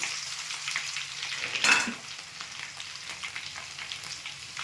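Mustard seeds, fenugreek, cumin, crushed garlic and curry leaves sizzle in hot oil for a chilli pickle tempering, with a sharp spitting burst as ingredients drop in and then a steady crackling fry.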